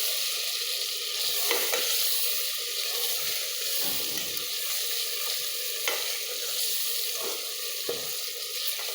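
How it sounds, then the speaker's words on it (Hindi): Spices frying with chicken and peas in a pan, a steady loud sizzle with occasional stirring scrapes and bubbling running throughout. "अब मैं मसालों को अच्छी तरह भून लूँगी ताकि मसालों और चिकन मटर किसी की स्मेल ना आए"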